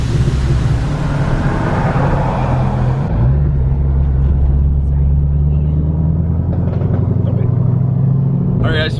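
An Audi R8 engine rumbles loudly and steadily nearby, its deep drone holding for several seconds with a slight pitch shift, while other car-show noise and wind buffeting mix in.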